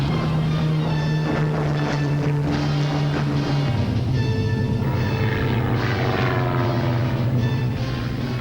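WWII German bombers, Heinkel He-111 and Junkers Ju-88, fly over harbours and aircraft factories, their propeller engines a loud, continuous drone with slowly shifting pitch that fills the whole stretch.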